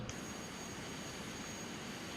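Learjet engine in Flight Simulator X, heard as a steady, faint jet whine and broad hiss with a thin high tone, constant and unchanging, with no voices.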